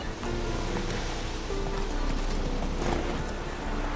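Roach the horse galloping in Witcher 3, a steady, dense drumming of hooves that holds at an even level throughout the clip.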